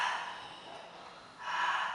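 Soft, breathy pranayama airflow through a throat narrowed by the tongue root, two drawn-out hissing breaths close up with the mouth closed, the second louder after a brief dip.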